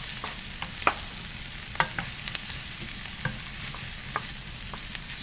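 Onions fry in a pan on a large stovetop burner, making a soft, even sizzle with occasional light clicks and taps of a utensil. The sound is fairly quiet and steady, with no speech.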